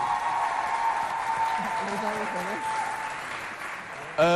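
Audience applause at a Télé Tchad Festafrica show, a continuous clapping wash with a voice talking over it and louder speech cutting in at the end.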